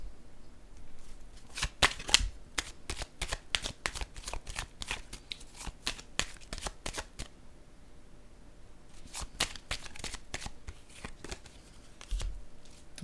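Tarot cards being shuffled by hand, quick crisp riffling flicks in two close bursts separated by a brief quieter pause, with no talking.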